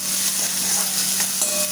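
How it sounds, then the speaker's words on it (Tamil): Onions sautéing in oil in a pan for rava upma, a steady close hiss of frying with faint stirring scrapes throughout, no talk. "வெங்காயம் நல்லா வதங்கணும்."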